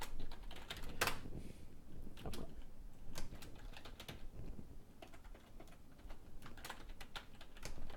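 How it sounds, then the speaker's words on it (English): A password typed on a computer keyboard, a close run of quick, uneven key clicks with short pauses and a few heavier strikes, no talking. "Typing in my password."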